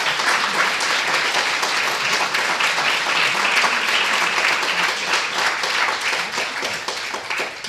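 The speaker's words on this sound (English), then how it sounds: "let's give them a round of applause" Sustained audience applause at an academic colloquium on restorative justice; many hands clap in a dense, even wash that stays loud and steady throughout, with no voices over it.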